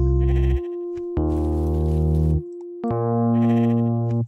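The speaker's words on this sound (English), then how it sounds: "Oh, a goat?" A sheep-counting video game plays synthetic goat bleats: three loud, tonal, electronic-sounding cries of about a second each, separated by short pauses.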